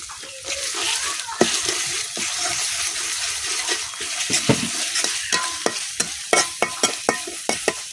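Ginger, garlic and cumin fry with onion in hot oil, a steady sizzle broken by frequent scraping stirs that grow sharper and more rhythmic toward the end.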